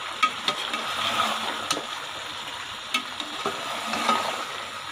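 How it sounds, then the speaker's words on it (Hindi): A spoon stirs a cauliflower and peas curry in a pan, giving a soft, steady sizzle broken by a few light clinks and scrapes, heard up close. "चम्मच की मदद से इसको मिक्स कर दें।"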